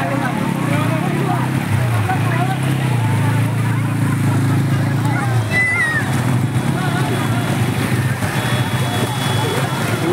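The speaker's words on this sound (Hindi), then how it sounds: "पानी बहुत स्पीड में जा रहा है" Ganges floodwater rushing fast across a highway and into a village, a loud continuous roar and slosh of water close by, with a steady low engine hum under part of it and someone speaking over it.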